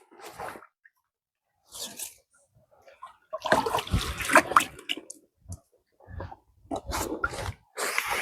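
Pond water sloshes and splashes into a big bucket in bursts during an autumn pond clean, with short gaps of silence between the pours, close and fairly loud.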